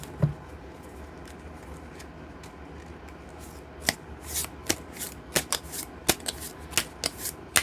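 Tarot cards shuffled by hand, close up, with soft rustling that builds into a run of crisp, snappy riffles and slaps in the second half, alone with no talking.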